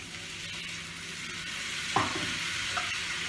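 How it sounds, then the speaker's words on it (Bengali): Spice paste for pabda fish curry sizzles steadily in hot oil as it is stirred, with a continuous frying hiss and a couple of sharper scraping stirs near the end, close and without talk. "আবার একটু কষবো।"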